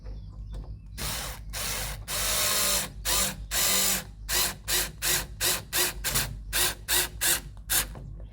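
Side light casing screws on a Renault 4GTL being driven in with a power screwdriver, a series of loud close ratcheting bursts, longer at first, then quicker short pulses with brief gaps, no talking.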